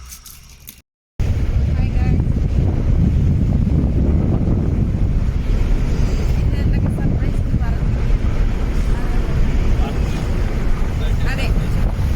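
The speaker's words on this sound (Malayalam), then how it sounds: "ബൈപ്പാസ് റോഡാണ്. സോ ഭയങ്കര കാറ്റുമായിരിക്കും." Strong wind beside a bypass road buffets the microphone in a loud, continuous roar after a brief dropout at the start.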